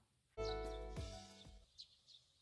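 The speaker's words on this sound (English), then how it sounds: "I woke to the sound of birds chirping nearby." A few short, light bird chirps in the Ikemen Sengoku video game sound effect follow a loud musical chime, the chirps faint and brief after the tone fades, with no talking.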